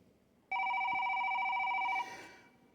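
An electronic payphone ring sounds alone for about a second and a half, a steady two-tone trill, then cuts off and fades into quiet room noise.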